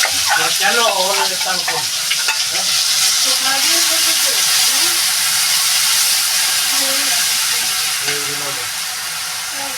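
Ginger and onion paste sizzles loudly in a hot pan with whole garam masala spices for a Bengali soya chaap malai curry, a steady close frying hiss throughout with a voice talking over it.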